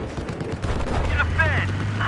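Gunfire from the video game Battlefield, a steady wash of shots across the whole stretch with radio-style voice callouts over it.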